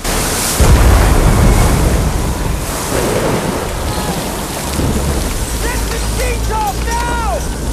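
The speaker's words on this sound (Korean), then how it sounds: "폭풍우에 휩싸여버린 요트." A typhoon engulfs a small yacht on the open Pacific: loud, constant heavy rain and crashing surf roar up close, with deep thunder rumbles early on and rising whistling wind gusts near the end.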